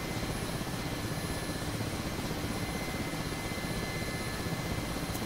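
A Mi-8 helicopter in a DCS flight simulator gives off a steady, dense roar of engine and rotor at constant loudness, filling the whole stretch with no pauses or voices.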